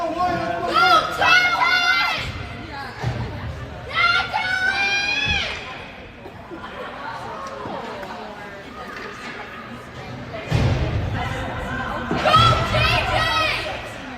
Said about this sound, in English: A squad of sisters down below attempting to thoroughly embarrass their brothers by cheering loudly for them.